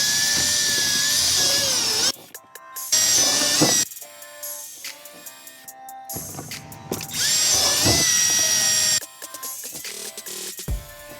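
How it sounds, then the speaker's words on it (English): A power drill whines in several bursts, drilling into the airbox of a 2017 Nissan Rogue, running hard then stopping, with whirring spin-ups and short pauses between each run, close by. "Did them from the front, drilling from the front"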